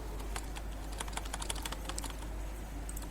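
Computer mouse clicks, often in quick doubles, while working with formulas in a Microsoft Excel spreadsheet; the short, crisp ticks sound fairly close and quiet over a steady low electrical hum.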